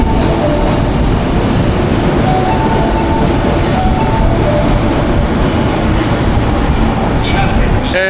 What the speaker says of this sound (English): So I'm waiting for my train. That's arriving now.